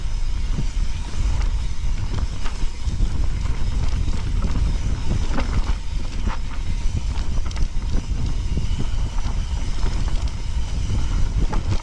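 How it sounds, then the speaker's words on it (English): Steady, loud wind roars and buffets across the microphone throughout, a constant rushing noise with no voices, while riding at Ladybower in the Peak District. "it is windy here. Well, the wind is coming up."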